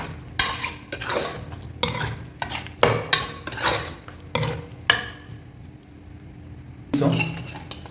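Masala for a bottle gourd, potato and mutton curry stirred in a metal pan: a steady run of loud, close scraping and clinking strokes about twice a second, then a short pause before one last stroke, with no talk.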